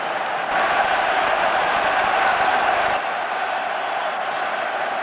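A packed rugby stadium crowd in Cardiff at a Wales versus All Blacks match roars continuously, a dense, loud wall of cheering and shouting that swells and then eases slightly partway through.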